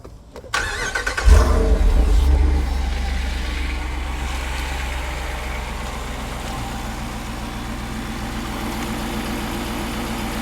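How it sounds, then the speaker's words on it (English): Jeep Rubicon 392 with a naturally aspirated 8-cylinder engine cranks and fires up with a loud deep roar, then drops into a steady, rumbling idle close by. "there's your Jeep engine."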